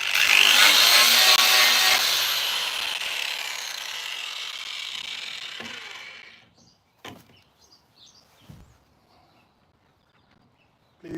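Rough power sanding of a wooden workpiece in a home woodworking session, a loud sustained abrasive whir for about six seconds that fades out, followed by quieter scattered knocks and handling noises.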